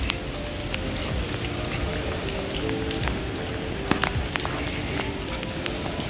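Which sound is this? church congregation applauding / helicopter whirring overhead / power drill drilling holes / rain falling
rain falling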